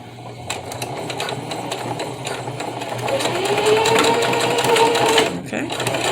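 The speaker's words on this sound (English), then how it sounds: "I'm going to turn it like this, and I'm going to do my zigzag stitch" A sewing machine whirs through a zigzag stitch on a fabric face mask, growing louder midway before stopping abruptly, with a person talking over the steady mechanical hum.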